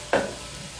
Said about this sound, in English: Now I'm just going to stir the oil with the onions well